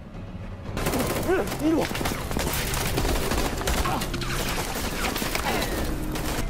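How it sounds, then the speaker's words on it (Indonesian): A gunfire exchange from the film Ashfall: dense, continuous bursts of rapid shots and automatic fire crackle loudly over several seconds, with a voice shouting briefly early on. "Saat tembak-menembak terjadi, tiba-tiba Kapten Jo muncul."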